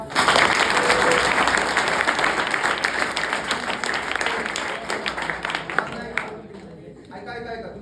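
Students in a classroom applaud together, a dense burst of clapping that fades over several seconds, and a voice speaks as it dies down.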